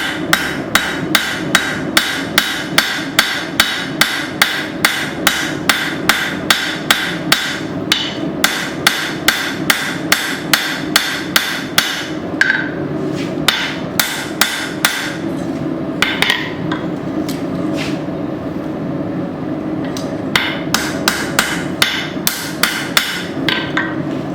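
Repeated hammer blows forging an old file, thinning the handle on an anvil; loud, close, steady rhythmic strikes with brief pauses between heats, no talking.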